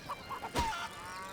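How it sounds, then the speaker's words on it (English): Chickens in The Bard's Tale game give a few short, faint clucks in a loose rhythm, with one louder squawk near the middle. "As you see, we've got chickens"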